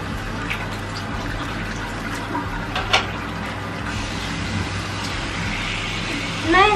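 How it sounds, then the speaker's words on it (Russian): Running tap water in a bathroom sink is adjusted to a warm temperature before tooth brushing, a steady hissing flow with small clicks and clunks from the faucet handle, heard close and alone. "Настраиваю сначала воду, чтобы она была теплая."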